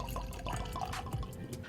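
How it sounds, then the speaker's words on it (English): Clermont Steep American single malt whiskey by Jim Beam is poured into a glass, a faint continuous trickling splash with small drips over a noisy room background and no speech. "Let's give this a pour."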